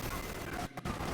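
Dense gunfire rattling continuously in the Space Marine 2 video game, loud and close, broken by a brief dip before the shooting resumes.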